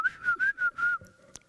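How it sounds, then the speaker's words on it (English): A human voice sings a glottal pitch blended with a whistle in a contemporary vocal composition, a string of short whistled pulses gliding slightly in pitch, then a faint held tone with a few soft clicks. "it is a normal glottal pitch plus a whistle"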